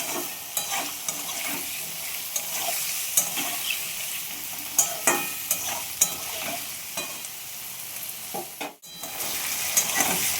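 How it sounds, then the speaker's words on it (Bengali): Potatoes seasoned with salt and turmeric sizzle in a pan as a spoon stirs them, with repeated scraping strokes over a constant close frying hiss, with no talk. "এইবার এগুলোকে নাড়াচাড়া করে এগুলোকে ভেজে নিই।"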